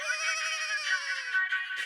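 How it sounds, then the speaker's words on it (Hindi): A phone rings in a steady electronic tone with a warbling, melodic pattern, continuous and fairly loud for about two seconds with no talk over it. "अरे मेहता साहब का ही फोन"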